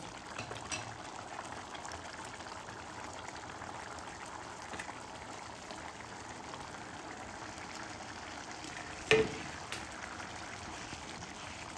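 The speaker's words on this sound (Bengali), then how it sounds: "ডালটা ফুটে গেছে" Chana dal with fried paneer bubbles at a low, steady simmer in a pot, a faint continuous burble broken by one sharp knock near the end.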